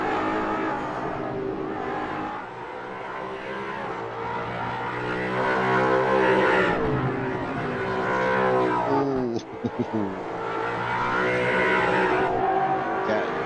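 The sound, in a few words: racing car braking hard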